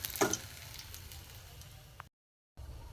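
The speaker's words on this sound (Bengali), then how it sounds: "অল্প অল্প করে ভাজছি" Bata fish pieces frying in oil in a wok, a steady close sizzle with a brief sharper crackle near the start, then a short gap of silence before the sizzling resumes.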